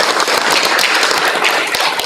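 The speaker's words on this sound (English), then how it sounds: "let's give them a round of applause" A chapel congregation giving a round of applause, dense overlapping claps at an even level with a few sharper taps standing out.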